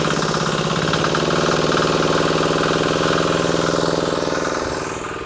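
A small diesel engine fueled with olive oil runs at about half throttle, a loud, close, rapid knocking chug that stays steady before easing slightly at the end, with no talking.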